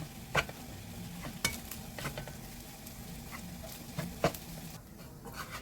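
A metal spatula stirs abalone seafood fried rice with shrimp and spring onion in a wok, giving scattered scraping clacks and light sizzling taps at an irregular rhythm, moderately quiet and close, with no talk.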